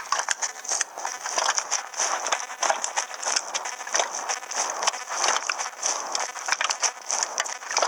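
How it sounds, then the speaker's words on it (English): Swamp ambience behind a house: a dense, steady outdoor wash with constant high insect-like buzzing, scattered crackles and faint clicks, and no voices. "That's the sound of the swamp, actually, behind my house. There's a swamp here."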